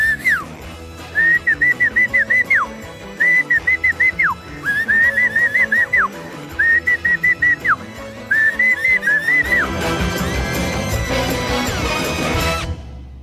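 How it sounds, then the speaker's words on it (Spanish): A man whistles a short bright tune in repeated phrases separated by brief pauses, loud and close, before a rougher, noisy burst of sound takes over near the end. "yo ando chiflando por todos lados"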